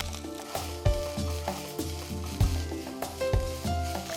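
Cabbage, capsicum and carrot fry in a pan with a steady close sizzle, broken by a few soft thumps and backed by a sustained tonal hum.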